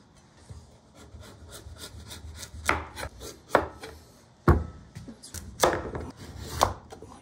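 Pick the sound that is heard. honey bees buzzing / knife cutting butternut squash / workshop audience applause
knife cutting butternut squash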